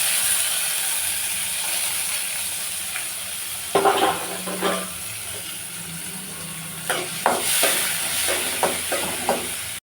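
Onions and tomatoes fry in hot oil with mustard seeds for a potato palkari, giving a soft steady sizzle, then a series of louder scraping stirs and spatters toward the end, close by with no talking.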